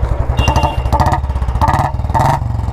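A Royal Enfield Bullet motorcycle engine starts and settles into a loud, close, steady thumping idle with a rapid, regular pulse and a few throttle blips.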